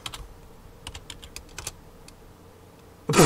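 Quick bursts of typing on a computer keyboard during a retro horror game, scattered clicks in short clusters with pauses, ending in a louder sudden clatter.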